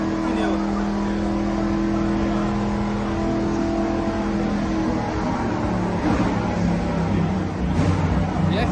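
A Mercedes-AMG race car at an AMG Cup Brasil event, its engine running with a steady droning hum and a few revs, while people talk nearby.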